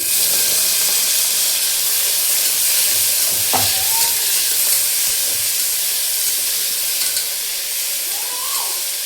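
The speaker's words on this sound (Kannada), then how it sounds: "ಈಗ ಇದಕ್ಕೆ ಟೊಮೆಟೊ ಹಾಕೊಳತ್ತೀನಿ." Tomatoes fry in a hot tempering for masoor dal, giving a continuous loud sizzling hiss with a couple of faint utensil clinks.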